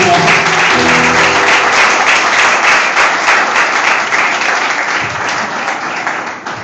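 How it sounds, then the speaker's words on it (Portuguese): Loud, sustained applause from a church congregation filling the room, steady clapping throughout that thins slightly near the end. "Aplauda o Senhor Jesus."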